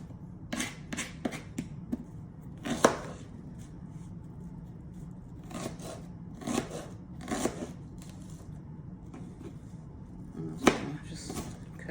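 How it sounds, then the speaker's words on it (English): Knife chopping half of a medium onion on a board, a scattered series of sharp, close cuts and taps in uneven clusters with quiet pauses between. "Just cut this onion on up."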